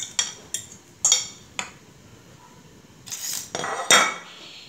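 Fried vegetables are mixed together in a frying pan, with scattered sharp metallic clinks and scrapes of a utensil against the pan at an irregular rhythm over a quiet background.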